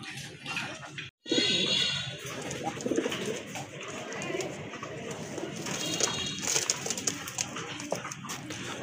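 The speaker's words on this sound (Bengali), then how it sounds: "আরেক জোড়া কবুতর দেখতে পাচ্ছেন মাশাল্লাহ, খুবই সুন্দর মার্কিং সম্পন্ন কবুতর" Pigeons on a farm give soft, low cooing calls amid rustling and shuffling pen noise, with a brief dropout early on and a dog-like whimper in the background.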